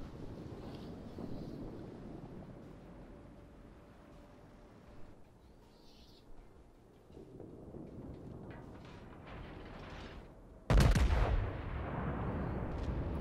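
Naval gunfire in World of Warships during a Tirpitz battle: wind and sea rumble for several seconds, then a single sudden loud artillery blast followed by a sustained roaring tail.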